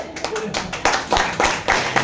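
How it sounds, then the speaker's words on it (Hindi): An audience at a motivational talk claps together in a steady run of sharp, fairly close claps, with some background chatter. "तो तालियां बजाते तो एक साथ हाथ गरम कर लो, अच्छे से बजा लो"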